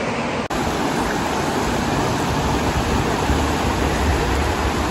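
A chilly mountain river rushes loudly and continuously near Whistler, British Columbia, a dense steady roar of flowing water with a brief dropout at the start.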